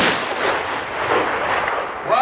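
Rifle volley fired as an honor salute by a ceremonial guard at an Independence Day commemoration in Piła, Poland, a loud sustained crack of gunfire with rolling echo filling the moment.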